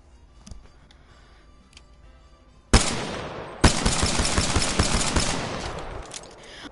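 An upgraded pistol fires in the video game Apex Legends. After quiet ticking, a sudden loud shot is followed by a rapid, dense string of close shots that keeps going for several seconds.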